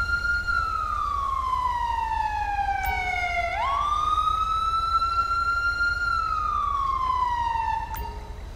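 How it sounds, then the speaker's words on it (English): An ambulance siren in GTA V with the LSPDFR police mod wails loud and close, its tone sweeping slowly down then up and down again in a continuous cycle over a low engine rumble. "So there's the ambulance."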